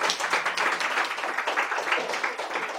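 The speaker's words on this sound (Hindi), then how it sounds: "ताली बजाकर धन्यवाद करें।" A church congregation at a Hindi sermon claps hands together in thanks, a dense, lively burst of many overlapping claps at close range.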